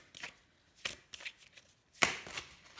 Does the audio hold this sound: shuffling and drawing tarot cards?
yes